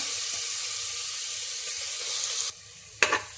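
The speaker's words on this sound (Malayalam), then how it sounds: "ഇനി ഒരു കുക്കറിലേക്ക് 3 സ്പൂൺ ഓയിൽ ഒഴിച്ചു കൊടുക്കാം. ഇനി നമുക്ക് അതിലേക്ക് ചതച്ച് വെച്ച ഇഞ്ചിയും വെളുത്തുള്ളിയും ഇട്ട് കൊടുക്കാം." Crushed ginger and garlic hit three spoons of oil in a pressure cooker and sizzle steadily, then the sizzle drops away and a short utensil clatter follows.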